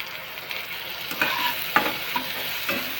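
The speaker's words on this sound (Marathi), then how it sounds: "चांगला भाजायचा कांदा आणि टोमॅटो मऊ होऊन द्यायचा एकदम." Onion and tomato for masala vangi fry in a pan with a soft, even sizzle and a few light scrapes from stirring.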